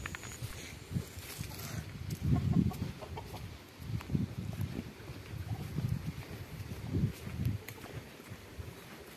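Local village chickens cluck outdoors in soft, irregular bursts, moderately close, with a breezy wind rumble in the background.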